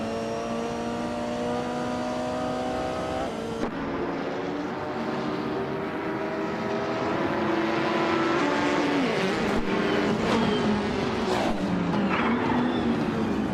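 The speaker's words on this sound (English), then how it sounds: "Lithocarp's car is a 2016 BMW M6 GTL" Race cars roar through a racing video game, including a 2016 BMW M6 GTL, engines holding high revs then shifting down with skidding tires, loud and continuous with no voices.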